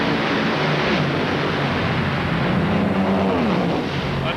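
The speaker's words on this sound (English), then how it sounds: "It takes the idle when you take a plug out, brings it up a little bit so the car will idle a little higher." A drag racing car at an NHRA national event idles high and rough with an injector plug removed, a dense, loud, steady engine roar filling the track setting.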